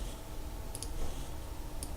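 A computer mouse clicks faintly while text is being placed in Photoshop, a few soft, quick clicks, a close pair followed by a single one, over a steady low room hum.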